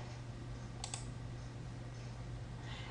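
A computer mouse click in a billing program, one faint short double click near the start over a low, steady electrical hum, otherwise quiet.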